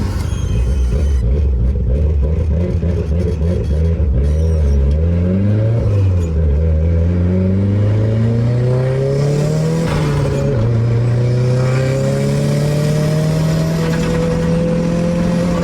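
A Proton Satria with a drilled-out thermostat accelerates onto a highway, its engine heard loud and close from inside, revving up in rising sweeps and dropping at each gear change before settling into a steady higher drone, with no talking.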